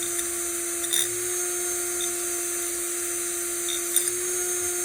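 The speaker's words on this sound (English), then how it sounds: "it's a lot easier to hit it with the wire wheel first" Steady high electric whine of a wire wheel on a power tool, scrubbing rust off around the screws on a Catalina 27 sailboat, with a sustained tone and a few brief scraping flares.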